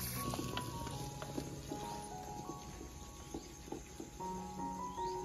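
Chopped onion frying in hot oil gives a steady, low sizzle and crackle, with faint clinks of cookware scattered through it and no talk.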